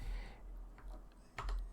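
A few quiet keyboard key presses, short soft clicks spaced apart, with a sharper tap near the end against a faint room hum.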